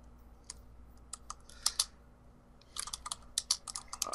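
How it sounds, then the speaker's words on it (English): Clattering computer keyboard typing, close and fairly loud, in irregular bursts of rapid keystrokes separated by a short pause, with no talking. "stop typing at fucking hella loud and fucking pay attention"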